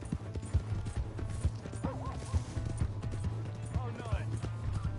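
A horse gallops with rapid, steady clip-clop hoofbeats and lets out several whinnies in Red Dead Redemption 2, surrounded by game ambience and other noise, fairly close and continuous throughout.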